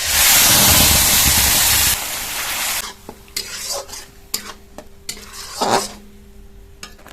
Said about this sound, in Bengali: গরম কড়ায় সরষের তেল দিয়ে দেবো, কালো জিরে, ধনেপাতার পেস্ট দিয়ে দেবো